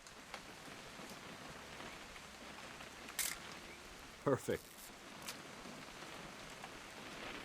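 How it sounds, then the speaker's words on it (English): Steady rain in What Remains of Edith Finch, a soft wash of drops under a brief spoken word, with a couple of short clicks from a camera. "It's gonna rain the whole weekend, isn't it?"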